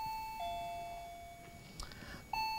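A quiz show bell rings out in clear electronic tones, a sustained chime that steps down in pitch and then sounds again sharply at the end, fairly quiet in a hushed studio.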